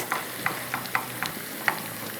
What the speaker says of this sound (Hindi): पहले हम तड़का लगा लें